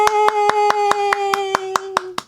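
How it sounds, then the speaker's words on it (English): About eleven even, close, sharp claps at a steady beat over a sustained tone, ending in a short fade. "Can you clap with me?"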